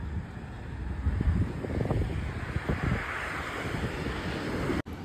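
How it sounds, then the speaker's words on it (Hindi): Wind blows steadily outdoors on a cold foggy winter evening, a continuous low roar and buffeting against the microphone, with no one speaking. "देखो मौसम कैसा हो रहा, हवा चल रही है और फॉग टाइप की है"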